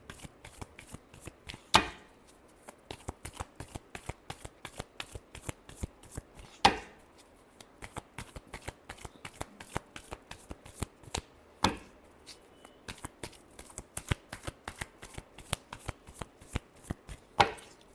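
Tarot cards are shuffled by hand in a long run of quick riffling flicks, with a few sharper slaps where the deck is squared, close and moderately loud, with no talking.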